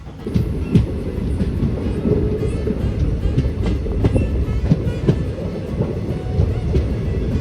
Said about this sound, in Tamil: மேட்டுப்பாளையத்துலேருந்து தூத்துக்குடி வரைக்கும் போகிற பை வீக்லி எக்ஸ்பிரஸ்ங்க